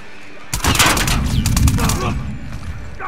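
Rapid gunfire in the video game The Last of Us Part II, a loud burst of close, clustered shots lasting a few seconds, followed by scattered trailing reports.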